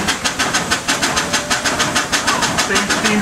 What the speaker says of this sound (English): That might be a familiar sound to some of you. Sounds like a steam engine.